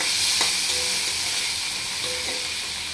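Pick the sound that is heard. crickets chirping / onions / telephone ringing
onions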